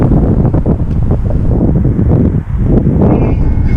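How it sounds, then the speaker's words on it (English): Strong gusts of wind, around 20 miles an hour, batter a microphone outdoors near a shopping plaza, a loud continuous rumbling buffet with brief dips, no voices. "The wind is about 20 miles an hour."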